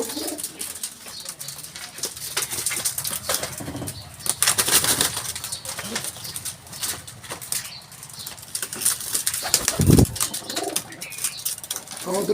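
Pigeons kept in a village loft flap their wings in repeated bursts with occasional soft coos, close by, with faint talk in the background.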